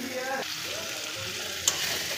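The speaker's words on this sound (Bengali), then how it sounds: "দেখুন ভালো করে মশলাটা কষিয়ে নিচ্ছি।" Spice paste (masala) frying with sour yogurt in a pan, a steady close sizzle with stirring scrapes, a brief sharp clink near the end, and no talking.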